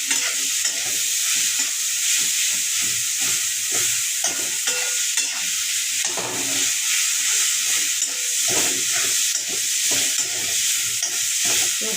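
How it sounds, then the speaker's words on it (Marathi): Shredded cabbage fries in a pan with sambar masala and other spices, a steady bright sizzle running throughout while a spatula scrapes and stirs in quick irregular strokes, loud and close with no talking. "कोबी जराशी फ्राय झाली"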